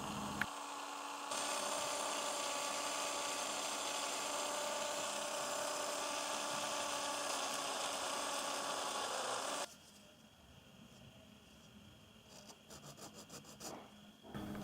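A small 0.7 mm drill bores a hole for fishing line into the end of a plastic fishing float blank, giving a steady high-pitched whirring grind for about eight seconds before stopping, followed by a quieter background.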